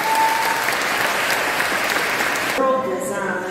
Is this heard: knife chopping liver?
no